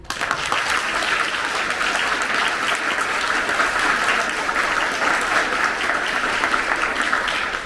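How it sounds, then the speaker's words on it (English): Delegates in a model UN general assembly applaud after a resolution passes, a sustained, even wash of many hands clapping from start to finish with no talk. "Clapping is now in order."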